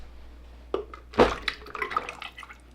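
Liquid soap batter pours into a container during soap making, a brief, soft, close-up trickle and splash with a few small gurgles over quiet background, no talking.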